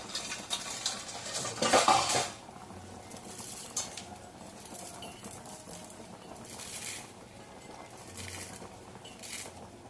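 Finely chopped garlic and a roll of noodles go into a pot of chicken noodle soup with a burst of sizzling patter, followed by lighter clinks and stirring of a utensil, with no talking.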